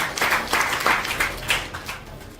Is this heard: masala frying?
no